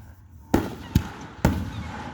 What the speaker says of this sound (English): Daniel turned a straw into a magic wand, and he's been making the fireworks